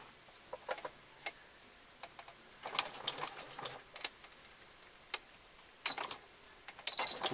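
A home sewing machine runs a straight stitch on fabric in short, quiet bursts of rapid ticking, stopping and starting with pauses between runs.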